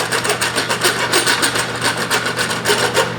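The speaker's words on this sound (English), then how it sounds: "sometimes the smaller Dragon Rasp works a little better" Hand rasp carving the wooden neck of an acoustic guitar: a steady series of about a dozen close, gritty scraping strokes in an even back-and-forth rhythm.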